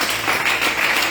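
A church congregation applauds together, a steady wash of many hands clapping in a reverberant hall with no pauses.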